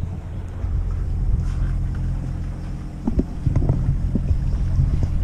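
A sailboat's low, steady engine drone hums under wind and water noise on the Ionian Sea, with a few knocks and thumps toward the end.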